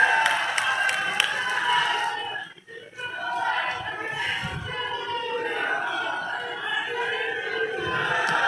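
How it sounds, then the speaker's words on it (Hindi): A rally crowd in Tosham claps and cheers in a loud, dense roar that dips briefly then swells again, with shouting voices and clapping blended throughout. "जोरदार तालियां बजाइएगा"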